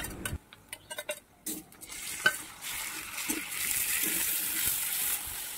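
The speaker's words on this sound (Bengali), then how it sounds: "পেঁয়াজটা ভালো করে ভেজে নেব আর এর মধ্যে আমি দিয়ে দিলাম সামান্য একটু নুন।" Onion frying with salt in a pan, first some scattered ticks and clacks of stirring, then a steady bright sizzle that settles in and continues close up.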